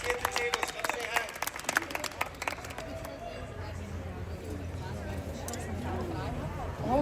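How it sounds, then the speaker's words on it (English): Audience applause breaks out with dense, uneven clapping in the first three seconds, then thins into crowd chatter and murmur for the rest of the stretch. "Round of applause for these beautiful human beings, Peter and Michelle."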